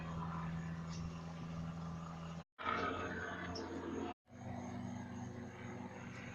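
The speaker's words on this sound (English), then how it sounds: "This helicopter says DHS right on it." A DHS helicopter circles low over a town, its rotor and engine drone humming steadily overhead, broken by two brief cuts of silence.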